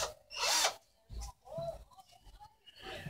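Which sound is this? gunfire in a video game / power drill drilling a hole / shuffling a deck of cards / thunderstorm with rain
power drill drilling a hole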